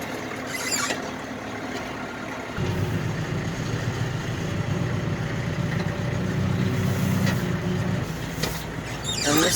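A tractor engine idles nearby in a farm building doorway. Its low, steady rumble thickens after a couple of seconds and runs continuously to the end, with a few faint mechanical clicks and knocks.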